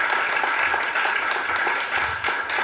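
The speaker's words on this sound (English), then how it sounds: "let's give Chad a good applause anyway" An audience applauds at a Campbell County Conservation District cooperator awards dinner, a steady, dense wash of many hands clapping that fills the room at even loudness throughout.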